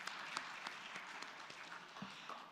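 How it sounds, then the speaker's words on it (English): An audience at a chartered accountants' conference in India applauds, a faint, distant patter of many hands clapping steadily throughout. "Can we have a big round of applause for our hospitality partners?"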